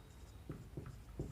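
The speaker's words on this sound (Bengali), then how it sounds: "লিখছি দেখো" Chalk or marker strokes on a board during a physics lesson on thermal expansion, three short scratchy strokes at a steady pace, close and fairly quiet, with no talking.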